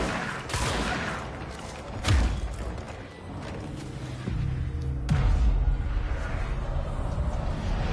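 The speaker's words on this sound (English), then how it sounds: "God, I have a shotgun." Shotgun blasts in the video game Control: a few heavy booming shots spaced several seconds apart, loud and close, among rumbling gunfire and crashing debris.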